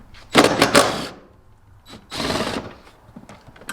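A cordless impact wrench drives the E12 bolts on a Miata seat in two short, sharp buzzing bursts, close and loud, with quiet workshop air in between.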